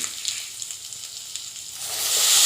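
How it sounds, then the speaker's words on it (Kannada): Spices sizzle and fry in oil in a pan for snake gourd sambar, a steady close hiss that swells louder toward the end, with faint stirring scrapes beneath. "ಎರಡು ನಿಮಿಷ ಫ್ರೈ ಮಾಡ್ಕೋಬೇಕು"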